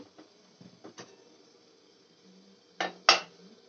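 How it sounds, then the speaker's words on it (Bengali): A metal lid is lifted off a pot of steaming stuffed idli, giving a few soft clatters and then two sharp metallic clanks near the end, close and otherwise quiet. "এবার আমি ঢাকনাটা তুলে দেখে নেব"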